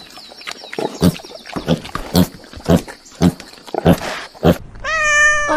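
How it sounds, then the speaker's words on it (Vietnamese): After a run of rhythmic snorting grunts, a cat lets out one short, clear meow close up at the end. "con mèo"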